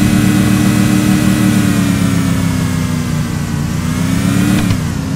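A car engine in a drag racing video game holds a loud, steady high-rev drone with strong harmonics, then dips slightly in pitch near the end.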